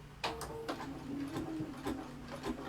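A sewing machine stitches through several fabric layers with a large stitch and a walking foot, a steady close mechanical whir with regular clicking beats, no talking.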